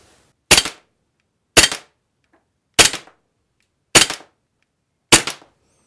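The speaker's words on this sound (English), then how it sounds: "Barry, why don't you go ahead and show us how accurate this gun is?" A Game Face CO2 blowback pistol fires five sharp, loud shots at a target 30 feet away, each crack evenly spaced about a second apart with silence between.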